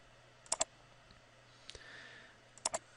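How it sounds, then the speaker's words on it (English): A few quick clicks on a computer keyboard, two short pairs of keystrokes separated by a pause, faint and close in a quiet room. "I'm going to manually type in a number like 60 and press enter"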